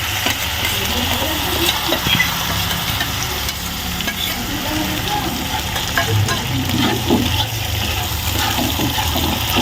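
Cumin, green chili, ginger and dried red chili paste frying steadily in a pan, with a continuous broadband sizzle and low rumbling stir noise throughout at a fairly loud, even level.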